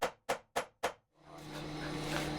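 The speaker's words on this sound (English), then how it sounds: "I'll give this a couple whacks," Four sharp, evenly spaced hammer whacks ring out on a stuck part of a milling machine, each loud blow decaying quickly, followed by a steady rising machine hum with no talk.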